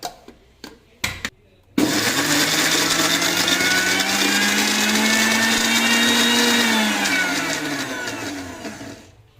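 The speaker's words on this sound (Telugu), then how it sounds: "గట్టిగా అయిపోయినాక మళ్ళీ ఒకసారి మనం మిక్సీ పట్టుకోవాలి" After a few brief clicks, a mixer grinder whirs loudly and steadily for several seconds blending green gram into a cream, its pitch rising slightly before winding down.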